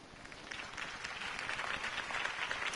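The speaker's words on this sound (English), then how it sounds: "could have heard that applause" Crowd applause follows a campaign speech in the Batman: The Telltale Series game, a faint, steady patter of clapping lasting a few seconds with no voices over it.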